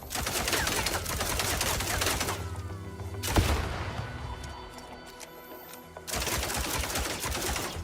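Rapid gunfire in the video game MindsEye, unlimited-ammo shooting aimed at a barrel, crackling in dense sustained bursts, pausing for a few seconds, then resuming just as loudly.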